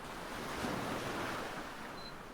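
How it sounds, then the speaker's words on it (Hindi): Sea waves wash against the shore in a steady, soft roar mixed with wind noise, continuous and fairly quiet with no voices. "किनारों से टकराकर लहर वापस मुड़ी"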